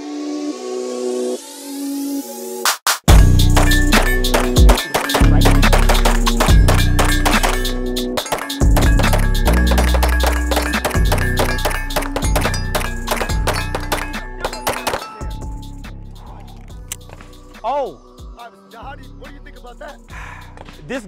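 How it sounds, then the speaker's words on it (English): Gunshots from a Taran Tactical Sand Viper fired on a shooting range, a rapid series of loud sharp reports and metallic clatter running almost continuously, with a brief quieter gap near the start. "This gun just shot itself."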